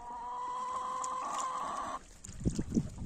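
Farmyard chickens on a Ukrainian homestead give soft clucks and calls, a steady tone under the first part, then a few closer, louder clucks near the end.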